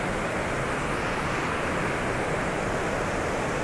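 Steady, dense rush of falling water from a small waterfall, a continuous broadband roar with no breaks, close and fairly loud.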